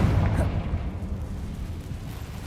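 Confringo fire-blast spell from a Harry Potter game bursts into a low, rumbling boom that starts loud and rolls on as a dense, fading roar, with no voices over it.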